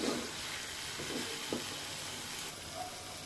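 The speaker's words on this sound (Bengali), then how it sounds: "এই যে এখানে হচ্ছে শুটকিটা ভুনা হচ্ছে" Dried shrimp frying in spices in a pan gives a soft, steady sizzle and hiss, with a few brief stirring scrapes near the start. It is faint and fairly close, with no talk.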